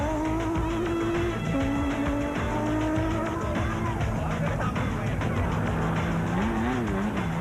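Rally cars leave the start line at the 2002 Mmabatho 500, with loud continuous engine roar and tyre scrabble sustained throughout and pitch sweeping as the cars accelerate away.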